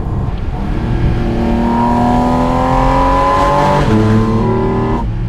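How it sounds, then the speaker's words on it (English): A Porsche GT4 RS engine revs with rising pitch, briefly dips, then climbs again; a loud, raspy carbon airbox intake and exhaust note without talk. "this carbon airbox sound, it's really, really unique"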